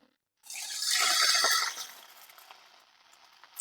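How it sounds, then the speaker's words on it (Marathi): A short pour of water onto grated jaggery in a pan, a close splashing rush that swells for about a second and then fades to a soft trickle. "आता पण ह्याच्यामध्ये थोडस पाणी घालून घेणार आहे"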